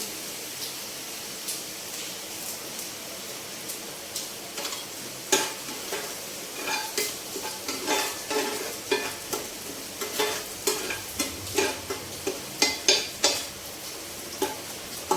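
Curry leaves frying in a pan for egg masala, a sizzle with repeated scraping stirs and clinks of a utensil against the pan, growing busier toward the end.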